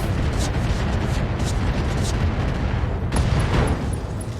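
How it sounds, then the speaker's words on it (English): A mech's ammunition explodes in the Roguetech BattleTech video game, a dense, continuous rumbling roar with repeated crackling bursts and a sharper blast near the three-second mark, loud and heavy throughout. "I'll take an ammo explosion as well."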